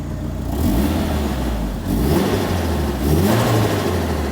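A car engine runs and revs after an injector was unplugged to fix a no-start, rising in several loud sustained surges that ease back between them, close by with no talk.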